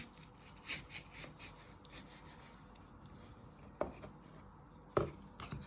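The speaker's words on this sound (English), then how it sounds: "So you're carefully getting your knife to the edge and you're just going all the way through" A kitchen knife cutting through an apple, coring it for a pork and apple tray bake, heard as soft close scraping and slicing with a couple of sharper clicks as the blade passes through.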